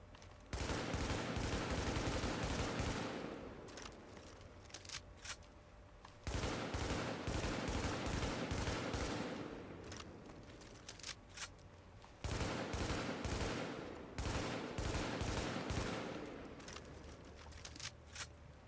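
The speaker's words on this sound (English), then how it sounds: "this is what it looks like when you fire a burst fire weapon as fast as you possibly can" A burst-fire weapon in The Division is fired as fast as possible, giving three loud sustained volleys of rapid shots, each trailing off before the next starts, with no talk.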